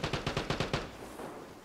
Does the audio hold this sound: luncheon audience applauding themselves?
no